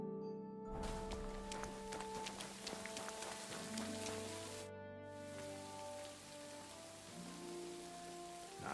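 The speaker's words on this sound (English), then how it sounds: "Bloody rain." Steady rain pattering in Kingdom Come Deliverance II, a constant hiss with sparse drops under soft tonal game music that cuts out briefly midway.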